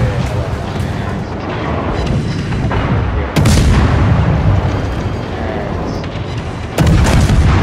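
Naval guns fire in the World of Warships game: two heavy close booms ring out over a constant rumbling battle background.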